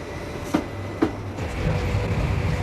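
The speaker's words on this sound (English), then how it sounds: "the 3:18 express train left Cardiff for London Paddington" An express train on the rail journey from Cardiff to London Paddington, a steady low rumble with two sharp rail clicks early on, continuous and fairly close.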